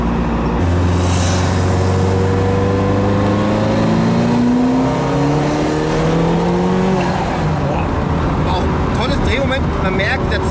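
A Ferrari F40 with its 2.9-litre V8 revs hard while driving, the engine note climbing steeply through the gears, loud and close inside the car, with a voice talking over it.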